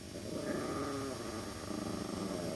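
Low, continuous growling from dogs lying piled on top of each other indoors, a rumbling, close sound that holds steady throughout with no talking.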